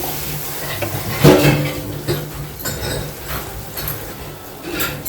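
Red chili masala stirred as it fries in a little oil in a pan, with a steady close sizzle and a few louder scrapes of the spoon against the pan; no one speaks.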